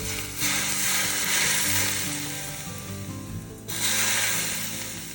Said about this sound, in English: So I'm going to pour it in. You will hear a sizzle.